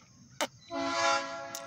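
OC&T freight train with Alco locomotive 75 at Rynd Farm, Pennsylvania, giving a short, faint horn blast that swells and fades over about a second, with low rumbling and two brief clicks around it.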